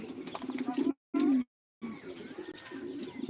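A pair of nesting pigeons coo in low, throaty bursts close by, the calls broken by short gaps of silence.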